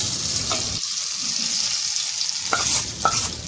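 Hot oil tempering with mustard seeds and cumin poured into North Karnataka tamarind thokku and stirred, a close hiss that cuts off abruptly, then wet scraping and stirring sounds.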